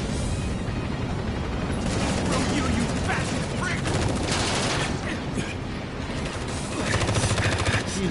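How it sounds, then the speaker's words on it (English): Barret's gun fires in Final Fantasy VII Remake as a continuous rapid rattle of shots inside loud, dense battle noise, with voices over it. "I guess Barrett's shooting BBs."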